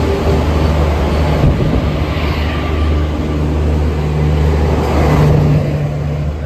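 A steady, loud rumble of a Konkan Railway train rolling past nearby, with a low droning hum throughout and no voices.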